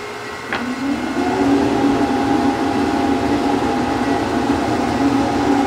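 A bandsaw motor starts with a brief click and whirs up to a steady, loud running hum that holds for several seconds, close by and with no talking.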